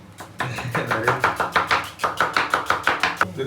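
A knife chops an onion finely on a board in quick, evenly spaced strikes, about five per second, crisp and close with no talking.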